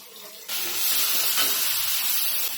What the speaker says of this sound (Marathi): बटर गरम झालं ना कांदा टाकून घ्यायचा आहे